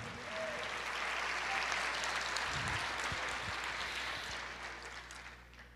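A church congregation claps in praise during a Portuguese-language sermon, a steady wash of moderate clapping with a few louder individual claps, swelling and then fading slightly.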